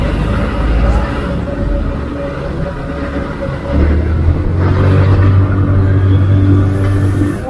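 A Motorstar Easyride 150RS motorcycle pulls away and accelerates in traffic, its engine drone rising and growing louder midway over a rumbling road background.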